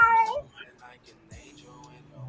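A cat meows loudly up close at the start, followed by softer, brief vocal sounds and a person talking over quieter moments.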